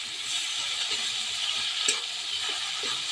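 Chilli powder and ginger paste sautéing in a pan for a potato and egg curry, giving a low, even sizzle with a few soft stirring knocks and no voices.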